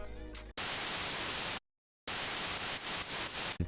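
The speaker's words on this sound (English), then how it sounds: "Added some white noise." Bright, hissing white noise plays in two loud sustained bursts separated by a short silence.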